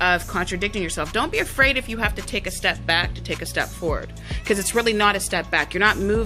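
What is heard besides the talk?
No everyday noise stands out behind the speech.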